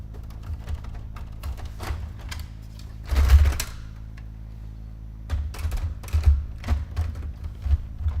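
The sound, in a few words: printer printing in a TV weather studio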